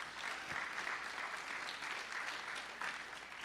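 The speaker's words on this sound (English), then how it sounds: "A round of applause for that one." Steady crowd applause at a Florida GOP political event, a dense wash of clapping heard from a distance, continuous and even for a few seconds.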